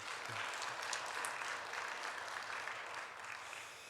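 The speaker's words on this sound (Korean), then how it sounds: "박수 한번 올려 드립시다." At a church leadership seminar's closing worship service, the congregation applauds the pastor, a soft, diffuse, continuous round of clapping from a crowd in a large room.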